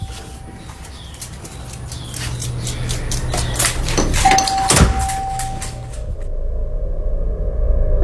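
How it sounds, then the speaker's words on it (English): A front doorbell rings with a clear sustained electronic tone, sounding twice over a background of rumbling and scattered clatter and fluttering noises. "how was the doorbell going off on its own?"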